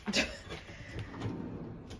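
A drawer in an apartment slides open with a faint, short clunk at the start, followed by quiet room tone and a soft rustle.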